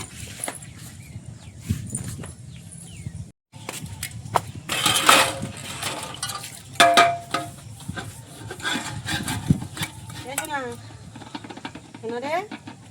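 Metal cooking pots being scrubbed and washed outdoors by a pond in the Sundarbans, with irregular rubbing, scraping and clattering strokes at close range, mixed with household noise and occasional voices.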